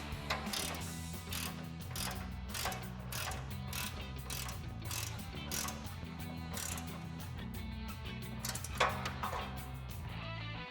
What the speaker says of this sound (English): we can take an 18mm ratcheting wrench on our nut to tighten that down